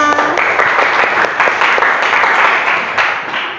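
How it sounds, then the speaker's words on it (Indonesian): A classroom group claps together in loud, close, steady applause, many hands beating in a dense patter, following a morning greeting at a school. "Tepuk tangan buat kita semua"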